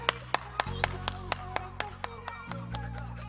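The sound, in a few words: clapping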